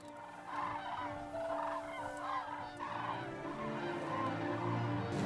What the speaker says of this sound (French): les grues crient leur nom quand elles volent